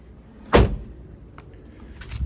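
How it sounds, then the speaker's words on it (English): The passenger door of a 1999 Toyota Camry LE, its side dented so the door catches the fender, opens with one sharp clunk, followed by a faint click and a softer knock. "this door does open into the fender a little bit."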